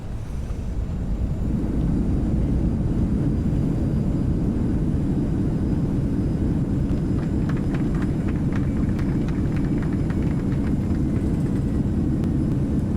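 An Endeavor Air regional jet lands at LaGuardia with thrust reversers deployed, heard from inside the cabin as a loud, steady roar that swells after touchdown and holds, with faint rattles and no talking.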